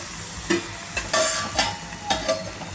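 Dried prawns sauté in a pan with a steady sizzle broken by regular scraping stirs, roughly every half second, close and clear with no talk.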